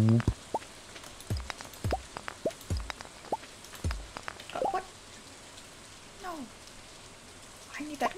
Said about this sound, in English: Spooky rain noises.